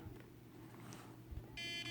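A radio transmitter's low-battery voltage alarm for a 15.3-volt LiPo pack, set to trigger at 15.5 volts, sounds a steady high electronic tone that begins partway through and holds to the end over faint room noise.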